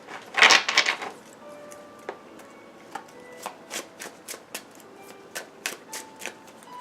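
Tarot cards being shuffled by hand, a loud riffling burst at the start followed by a series of softer, evenly spaced card slaps and slides, close up and with no talking.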